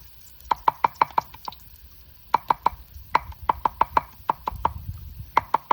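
Quick, sharp knife chops on a board cutting garlic come in rapid bursts of several strikes each, with short pauses between runs.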